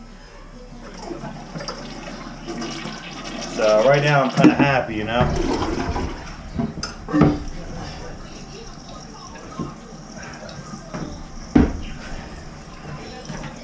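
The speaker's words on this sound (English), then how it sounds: "it's not flushing good because I'm doing a toilet handle repair right here" A clogged toilet with a handle under repair flushes with a gurgling rush of water that swells and then fades, while someone talks over it close by.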